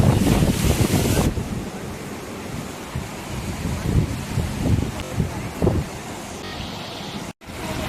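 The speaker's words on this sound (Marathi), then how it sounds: "हे जे धबधब्यामधून येणारं पाणी आहे ना ते दरीमध्ये जाण्याच्याऐवजी काही पाणी हे वाऱ्याच्या प्रचंड वेगामुळे मागे फेकल्या जातं" Strong wind buffets the microphone in loud gusts over a constant rushing roar of falling water at Sadawaghapur reverse waterfall, Satara, in July monsoon rain.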